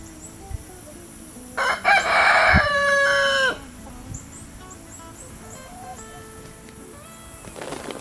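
A rooster crows loudly once near the middle, a drawn-out call with a brief build-up, among farm chickens; faint clucks and scattered small noises fill the quieter stretches before and after.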